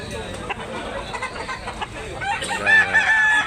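A white-legged gamecock rooster at a poultry market crows and clucks close by, its call rising loudly near the end, with someone talking over the bird.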